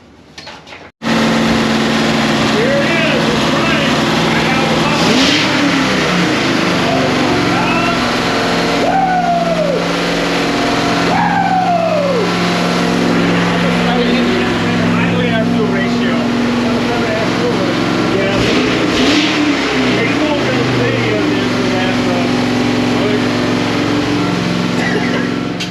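A carbureted V8 runs on a dyno after being fitted with a bolt-on four-barrel carburetor, with a dense, loud, steady drone throughout and a few rising and falling pitch sweeps as the throttle changes.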